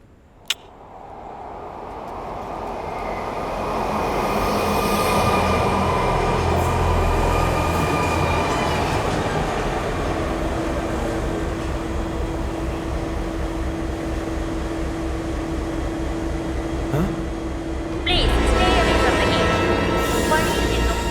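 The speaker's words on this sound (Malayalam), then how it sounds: "ഇലഹങ്ക വരെ പോകുന്ന ട്രെയിൻ" A train bound for Yelahanka rumbles steadily past at close range, a loud continuous roar of wheels on rails, with a brief squeal and a louder surge near the end.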